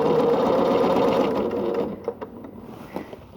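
A sewing machine runs a steady straight stitch across the base of a quilted tote bag made from squares. It hums loudly and continuously, then slows into a few separate clicks and taps.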